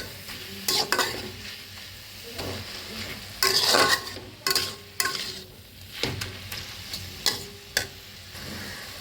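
Red amaranth greens with garlic stir-fried in a pan, with steady sizzling and repeated sharp scraping stirs of the spatula at irregular intervals, close and fairly loud with no talking.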